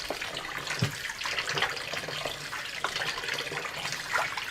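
Dough for vegetarian pork-style filling is kneaded and rinsed in water to wash out the starch, giving a steady splashing, trickling wash with small squelches and drips, close and moderately loud, with no talking.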